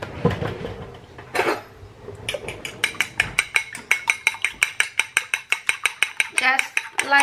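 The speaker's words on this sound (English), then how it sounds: "Just lightly beat the eggs." Eggs lightly beaten in a bowl for Spanish meatballs: a steady run of about twenty quick, sharp whisk or fork taps against the bowl, close and crisp, after a few louder clatters at the start.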